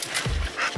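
A pit bull gives a few short, faint whimpering yips in quick succession, close by and quiet, with no one talking over it.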